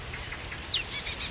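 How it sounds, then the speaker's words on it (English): Adult marsh tits near their nest give sharp, high alarm calls at a nearby tawny owl in the evening: a few quick rising-and-falling chirps, fairly close and clear, over a quiet low background hum. "That's the alarm call of the adults."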